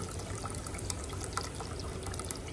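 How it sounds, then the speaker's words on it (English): Soda poured into a container to make orange pineapple homemade ice cream, a steady, fizzy, splashing pour that runs continuously at moderate level with no talk. "I'm gonna pour part of the soda in here."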